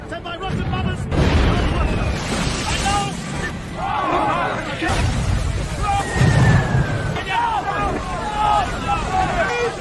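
Heavy booming bomb explosions in a Stalingrad war film, with rumbling blasts, debris and wind-like roar mixed under shouting voices and crowd babble, continuous and loud throughout.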